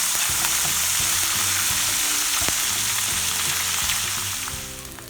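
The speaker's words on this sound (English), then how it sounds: "We are going to cook this ginger garlic paste until it's a little golden in color." Ginger garlic paste frying in ghee in a pan, a loud, steady sizzle with faint stirring scrapes that eases off at the end.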